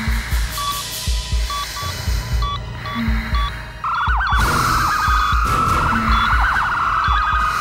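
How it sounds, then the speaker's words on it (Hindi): An alarm siren wails loudly in a hospital, at first with steady warbling beeps, then a rising and falling electronic siren takes over and keeps sounding at full strength. "अलार्म क्यों बज रहा है?"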